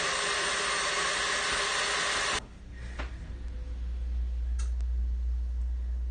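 A stand mixer beats egg whites on high speed, a loud bright whirring that cuts off abruptly after a couple of seconds, leaving a low steady hum and a few faint clicks.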